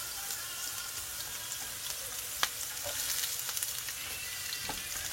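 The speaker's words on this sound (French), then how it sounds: "Donc là, on fait juste sauter les légumes." Carrots and other vegetables sautéing in a pan for a beef stir-fry, a soft steady sizzle with occasional sharp clicks and light stirring taps, fairly quiet, no speech.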